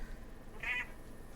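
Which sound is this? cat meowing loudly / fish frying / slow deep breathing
cat meowing loudly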